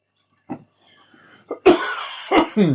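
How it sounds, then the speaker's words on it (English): A few dry coughs from one person with a lingering post-COVID cough, up close, short bursts separated by pauses, the last ones harsher and throaty. "I still have the cough from COVID"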